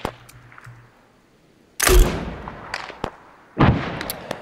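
Gunfire from an Arma 3 Liberation firefight on Altis, with two loud close bursts and a few sharper distant cracks separated by quiet gaps.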